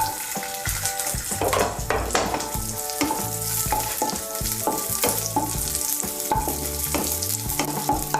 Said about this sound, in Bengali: ঘিটা গলে গেলে প্রথমে এর মধ্যে আমি কাজু বাদাম আর কিশমিশগুলো ভেজে নেব।